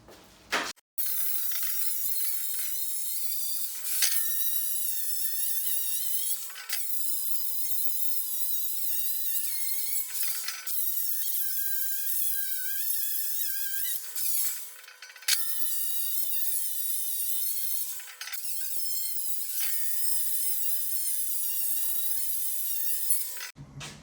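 A beveled flap disc grinds metal on a powder coating oven build, a steady loud high-pitched abrasive whine that runs nearly nonstop, broken by a few brief pauses and shifts in pressure.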